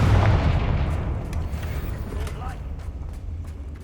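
A Confringo fire spell blasts in Hogwarts Legacy, a single deep booming explosion at the start that rolls off into a fading rumble with scattered crackles.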